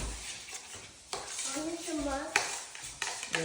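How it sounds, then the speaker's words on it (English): Taco sauce with vinegar is whisked in a bowl, with close clinks and scraping of a utensil against the dish, brief clatters, and a voice talking in the middle. "I'm just gonna whisk."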